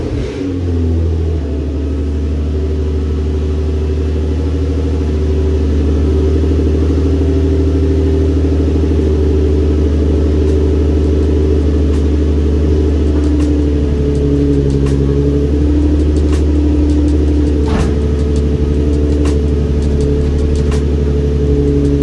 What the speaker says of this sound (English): Let's get a cold start up too